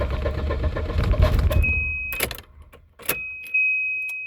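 Electric fuel pump on a Volvo 240 with a no-start fault, whining as a thin steady high-pitched tone while the engine cranks and clatters, with key and vehicle noise around it.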